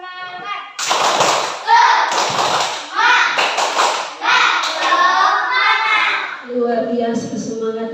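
Children at a school Independence Day lesson in Indonesia shout a rhythmic clapping cheer together, voices and claps in bursts, loud and close, ending with an adult voice.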